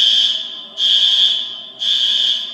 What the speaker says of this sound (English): Set off the alarm.